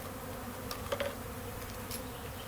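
Faint insect buzzing from honey bees hovering nearby during a hive installation, over a steady low hum, with a couple of brief higher whines drifting past.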